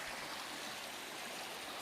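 A stream running beside a campsite gives a steady, faint rush of flowing water, an even wash that never changes and has no voices over it.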